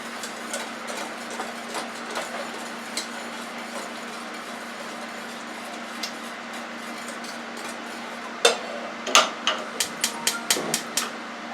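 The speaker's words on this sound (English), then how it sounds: "now we're going to just use a whisk and mix that up." A whisk mixes tomato soup ingredients in a pot, giving a steady scraping rustle over a low hum, ending in a quick run of sharp metallic taps against the pot's side, close and fairly loud.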